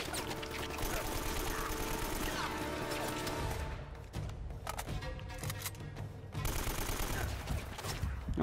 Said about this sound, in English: I feel like we got another gun battle.